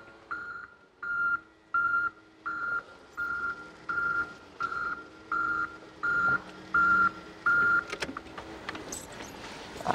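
A forklift gives about ten evenly spaced reversing beeps while loading a truck, loud and close in a regular on-off rhythm, followed by a short clatter at the end.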